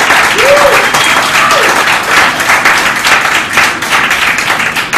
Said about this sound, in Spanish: quiero agradecer a Jorge Fernández, un fuerte aplauso.